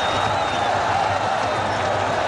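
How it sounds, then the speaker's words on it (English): A cricket stadium crowd cheers and applauds after a boundary, a steady, loud wash of sound with no break for the whole stretch. "that's brought the crowd alive"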